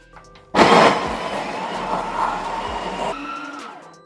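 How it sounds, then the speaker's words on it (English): An electric coffee grinder grinds 18 grams of coffee beans for espresso. Its loud, steady whir starts abruptly, keeps going for about two and a half seconds, then cuts off. "Add it in my coffee grinder, and now I'll start grinding."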